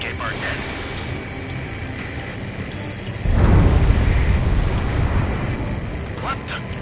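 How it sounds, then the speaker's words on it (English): Underwater explosion in the video game Ace Combat 7, a deep muffled boom that swells suddenly midway through and rumbles low under constant engine noise and game sound. "A huge explosion just went off underwater."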